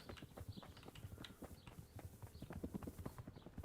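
Steady rhythmic clip-clop of horse hooves on a hard surface in the video game Kingdom Come: Deliverance, continuous and fairly close, with no voices over it.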